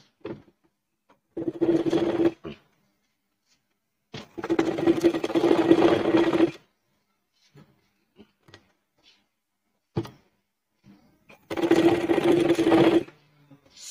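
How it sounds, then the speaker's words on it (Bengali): Sewing machine stitching the inner seam of a fabric shopping bag, running in three separate bursts of steady mechanical whirring with short pauses and a few faint clicks between runs. "এরকম ভাবে ধরে আমরা ভিতর সাইডটি সেলাই করব।"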